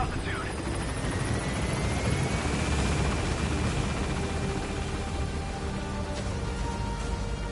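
A helicopter lifting off during an extraction in the video game Metal Gear Solid V, its broad rotor and engine roar steady and loud throughout, with faint radio-style voices underneath.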